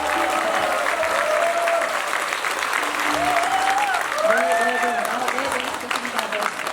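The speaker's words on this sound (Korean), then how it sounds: "여러분의 박수와 함성으로 힘차게 열어보도록 하겠습니다" A crowd applauds steadily and cheers to open a book concert about a public official's life in Ansan, with a few voices shouting and whooping over the dense, continuous clapping.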